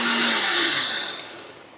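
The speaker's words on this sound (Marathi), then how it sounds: "आणि तर आपण टमाटर आता बारीक करतोय मिक्सरमध्ये." A kitchen mixer grinder whirs loudly as it purees tomatoes for a butter chicken gravy, a steady high-pitched motor roar that slowly fades toward the end.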